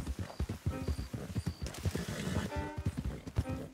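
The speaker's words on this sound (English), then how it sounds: "Don't want the horses clopping around outside the window" Horses clopping along in Red Dead Redemption 2, a steady uneven patter of hoofbeats close by with a brief whinny-like tone mixed in and quiet voices underneath.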